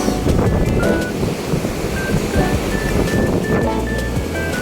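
Steady rushing water from a river fills the scene, a broad continuous wash with some wind buffeting the microphone, no voices.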